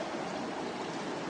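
A forest creek flows steadily in a continuous, even rush of water, close and moderately loud, with no voices over it.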